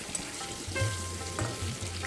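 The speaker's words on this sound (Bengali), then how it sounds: "এখন আর একটা সাইড ভালো করে ভেজে নেব।" Pointed gourd pieces sizzle steadily in hot oil in a pan, with soft stirring and turning scrapes that rise in short bursts, close and alone.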